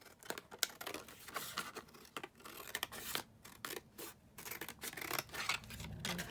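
Scissors cut paper along a line, giving close, dry crisp snips and rustling scrapes in uneven bursts at a moderate level, with no speech.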